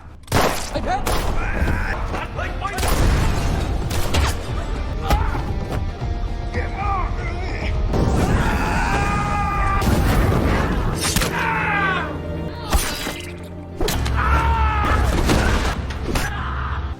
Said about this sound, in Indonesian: Naasnya Pets ditembak dan tewas seketika